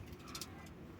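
Pigeons give a brief burst of soft cooing, close and fairly quiet, over low background rumble.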